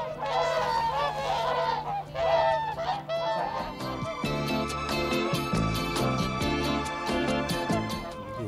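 Whooper swans arriving from Iceland, calling at a wintering site alongside geese and ducks: a dense, loud chorus of overlapping honking, bugle-like calls continues throughout without pause.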